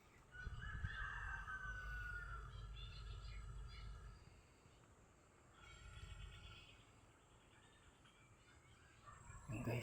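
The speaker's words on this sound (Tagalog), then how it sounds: "Yun, may ibon guys, oh." Bird calls, probably a chicken or other fowl, at a wild watering spot: a brief squawking call near the start and another around six seconds, set against steady outdoor background noise.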